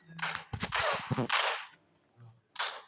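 Gunfire in the PUBG Mobile battle royale game, with a quick cluster of sharp shots followed by a lone shot, faint and played without talk.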